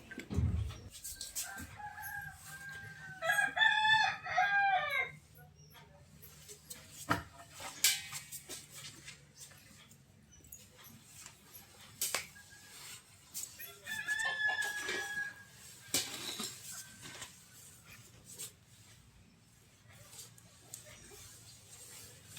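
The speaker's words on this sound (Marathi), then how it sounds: "पाठीमागे बघा पक्ष्यांचे वगैरे आवाज ऐकू येत आहेत" A rooster crows twice in the distance, with scattered clucks and other bird calls over a quiet outdoor morning, plus occasional knocks and rustles nearby.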